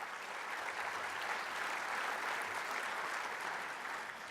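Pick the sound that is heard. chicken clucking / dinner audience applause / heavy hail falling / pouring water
dinner audience applause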